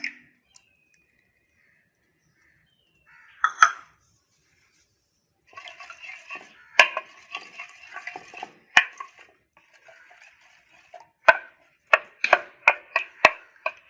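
A whisk clatters rhythmically against a metal pot while beating eggs, in quick scraping and tapping bursts that grow sharper toward the end.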